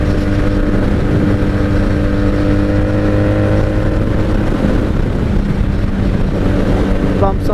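A 1997 Honda Magna VF750C motorcycle cruises on the highway, running on bad fuel from the carbs; its engine drones steadily and loudly throughout, with strong wind rush and no break in the roar.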